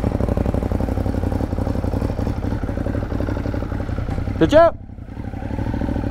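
A 2015 motorcycle engine runs at a steady mid-pitched drone while riding, with a brief voice and a sharp rising whine just before the engine note drops and then resumes.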